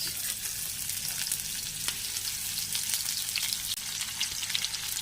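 Chopped onion and two bay leaves fry in hot oil for a jackfruit curry, a loud, steady close-up sizzle with crackling pops and a few light stirring scrapes.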